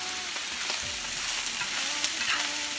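Chopped green onions go into a pan of shrimp and pineapple fried rice, raising a steady, dense sizzle with faint stirring scrapes throughout and no voices.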